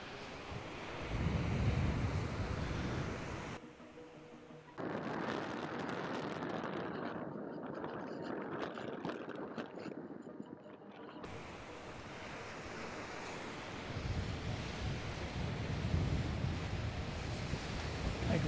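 Wind buffets the microphone outdoors during a power glider flight, a steady rushing roar that dips briefly to a quieter stretch before swelling again, with no voices.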